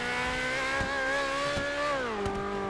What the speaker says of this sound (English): this thing is fast though. And also it got the pops from the exhaust.